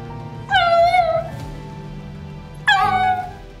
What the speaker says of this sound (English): He chases her down the road, crying and calling for her